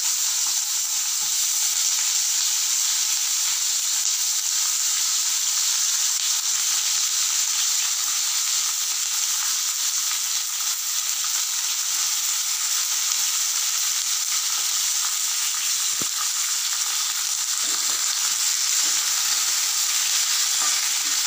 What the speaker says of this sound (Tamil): இஞ்சி போட்டுக்கலாம் உடனே வெங்காயத்தையும் போட்டுக்கலாம்